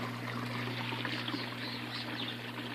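Water from a backyard aquaponics fish tank trickles and drains steadily through the rocks of a plant grow bed, a continuous pouring wash with a steady low pump hum beneath it.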